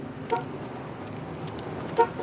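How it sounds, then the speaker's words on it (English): A passing car on a road sounds two short, faint horn toots about a second and a half apart, heard from a distance over a steady background hum. "I hope he's honking for me."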